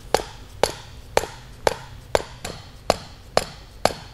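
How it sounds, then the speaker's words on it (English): Dead blow hammer pounding a metal sampling pin into a hole in concrete: nine sharp, evenly spaced thuds, about one every half second, loud and close with no talking. "You then take a dead blow hammer"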